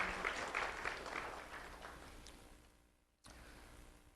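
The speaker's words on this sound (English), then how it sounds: "let's have a big round of applause and a big thank you to Lee County Electric Cooperative" Audience applause at a Do the Right Thing program event, a crowd clapping fairly loudly, fading out, then a short burst of room noise.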